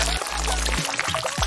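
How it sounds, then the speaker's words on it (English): Egg yolks poured out of a yolk separator while making meringues, giving a short liquid pour with soft wet plops and glugs, close and fairly loud, with no voices. "Pour out those yolks."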